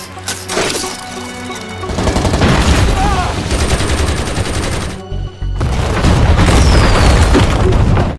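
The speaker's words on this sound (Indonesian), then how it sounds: "Dalam aksi baku tembak yang sangat epik itu, Moss berhasil menyusup" An action-film shootout at a villa, with mercenaries turned robbers trading fire: dense, loud gunfire and booming explosions roll on almost without pause, broken by one brief drop-out midway, with faint voices mixed in.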